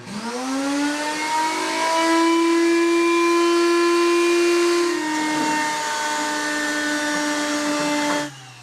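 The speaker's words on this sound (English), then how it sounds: "No pouring necessary, and the vacuum pump just gets it totally empty." A vacuum pump at a urine-diverting pumping station empties a collected urine jug, giving a loud, steady whirring drone with a rising whine that holds for about eight seconds and then cuts off sharply.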